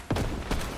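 Two heavy booming shots from video game gunfire, close and loud, spaced about half a second apart.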